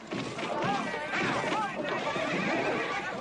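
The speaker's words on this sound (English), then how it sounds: "I never dreamed I'd ever see a bucking bronco." A bucking bronco horse neighs and whinnies loudly and repeatedly, with hoofbeats and general commotion in the background.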